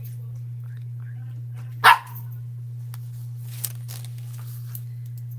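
A dog barks once, close and sharp, over a steady low electrical hum, followed by faint small clicks in an otherwise quiet room.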